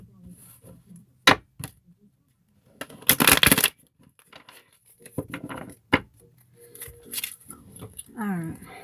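Playing cards being shuffled by hand in bursts of riffling, the loudest around the middle, with scattered taps and handling noises between them in a quiet room.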